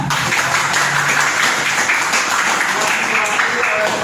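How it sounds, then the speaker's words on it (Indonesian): A classroom of students applauds a classmate during an Indonesian short-story lesson, a dense, even wash of clapping that runs for a few seconds. "Beri dulu tepuk tangan."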